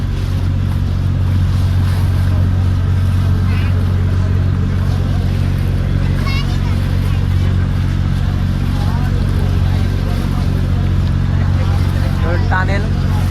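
A speedboat runs along a choppy river at a holiday park, its steady engine drone and rushing water loud and continuous throughout, with wind noise and occasional voices underneath.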